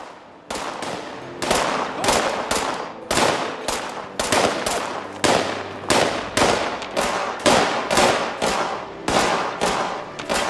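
Rapid bursts of video game gunfire ring out loud and close, a steady run of sharp, evenly spaced shots with hard attacks and short decays that continue without pause.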